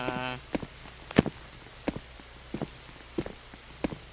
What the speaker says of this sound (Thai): ฝนมันตกนะเนี่ย